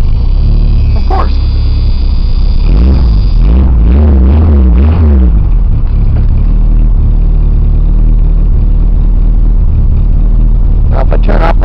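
An engine on a cold start runs loudly with a deep rumbling idle and a brief uneven surge near the start, heavy and close throughout, with someone talking over it.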